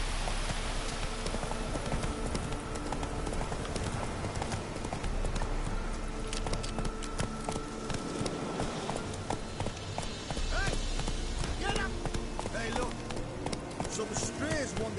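Roach the horse gallops in The Witcher 3 with a steady, continuous clip-clop of hooves under game ambience, while voices speak over it.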